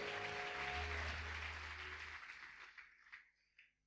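Church congregation applauding during a convention service, a full burst of clapping under a lingering low musical tone that thins out and fades into scattered claps.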